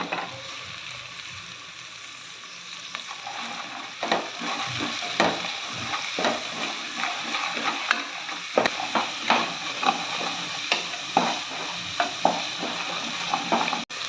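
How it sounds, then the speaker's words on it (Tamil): Long-sliced large onions sizzle and fry steadily in a pan for sambar while a spoon repeatedly scrapes and stirs them, the clatter growing busier after the first few seconds. "நீளமாக நறுக்குன பெரிய வெங்காயம் இதையும் போட்டுக்கலாம்"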